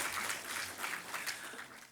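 An audience applauds at a Hindi kavi sammelan poetry recital, a steady, moderately quiet wash of many hands clapping that holds evenly for about two seconds without a break.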